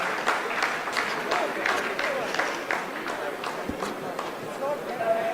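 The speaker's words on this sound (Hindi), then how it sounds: "आप इस तालियों के गड़गड़ाहट को सुन सकते हैं" Scientists applaud after a lunar landing phase, a steady wash of crowd clapping heard under continuous talk.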